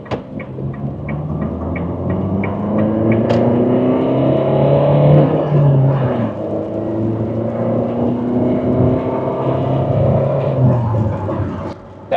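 A 2022 Dacia Duster in third gear pulls from 30 with a steady engine drone that climbs gradually in pitch, loud and close throughout. Near the end the drone drops away sharply.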